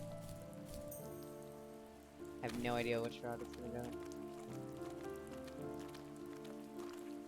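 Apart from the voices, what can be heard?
rain in video game The First Tree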